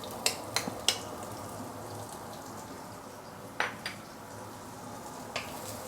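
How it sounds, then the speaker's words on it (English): Shallot, garlic and dried shrimp frying in hot oil in a wok, a quiet continuous sizzle punctuated by a few sharp clinks and scrapes of a utensil against the wok. "Once the oil is heated up, we can put in the shallot, garlic, and also dried shrimp."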